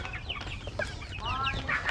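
Chicken or rooster clucking on a rural farm, several short bright calls close by over a steady low background hum, with no talking.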